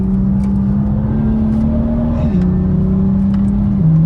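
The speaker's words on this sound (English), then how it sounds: "N55, glorious engine." BMW M2 F87 with the N55 engine revving loudly and steadily close by, holding a high pitch, then easing down a step partway through and again near the end, with no talk.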